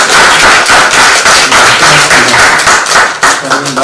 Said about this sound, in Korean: 우리 박수 한 번 더 쳐드리겠습니다